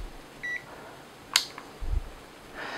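A multimeter set to continuity mode gives a short electronic beep, followed by a sharp click and a low thump as probes are handled on a bench, with faint room hum throughout.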